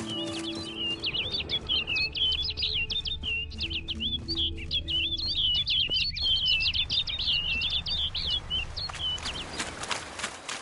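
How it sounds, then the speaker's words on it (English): A bird in The Witcher 3: Blood and Wine chirps in quick, repeated high tweets over a low ambient hum, steady and fairly close throughout, with no voices. "Looks like the bird's leading me somewhere."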